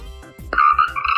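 Frog croaking in a short clip, a few low pulsing calls followed by a louder, sustained rasping croak, close and clear with no talk.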